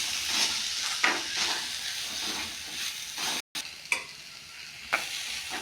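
Vegetables with turmeric fry in a pan, a steady sizzle broken by scraping stirs and a brief silent gap, with no voices.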